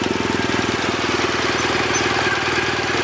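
A motorbike engine idles close by in an even, rapid thumping rhythm as the clutch is let out with no throttle, a steady loud chug throughout with no talk.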